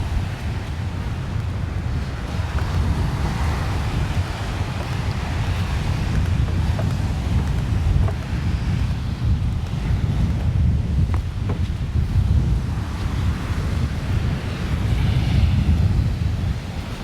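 Steady wind buffets the microphone over rolling ocean surf at Juno Beach, Florida, a broad continuous roar that stays loud and even, with no speech.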